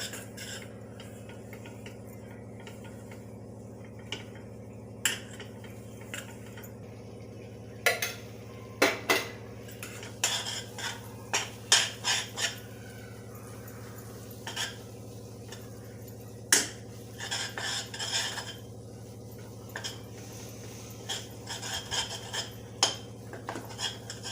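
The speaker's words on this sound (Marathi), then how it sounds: "बेसन भाजून घेऊया" Gram flour being dry-roasted in a pan for sesame-peanut flatbread, with a utensil scraping and clinking against the metal in bursts of sharp taps over a steady low hum, no talking.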